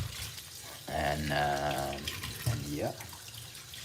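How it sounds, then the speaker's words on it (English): Fruits rinsed under a running kitchen tap, water splashing steadily into the sink nearby while someone talks over it briefly. "I like to wash my fruits nice,"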